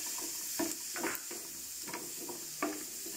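Ginger, garlic and onion fry in a pot over low heat for traditional goat leg soup, giving a steady soft sizzle broken by a few clinks and scrapes of stirring.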